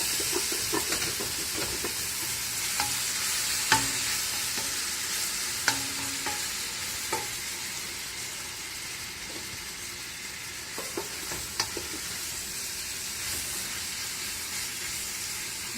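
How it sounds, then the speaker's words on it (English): A wooden spoon stirs onions and peppers in a pot for jambalaya, making a steady close sizzle with scattered scraping knocks against the pot. There is no talk. "when you mix it around, try to use a wooden spoon so that you can get the bottom of that, lift it up"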